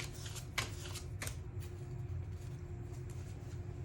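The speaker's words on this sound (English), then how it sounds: "the piles have been shuffled" A deck of animal oracle cards is shuffled close up, with a steady soft riffling and a few crisp flicks over a low background hum, and no talking.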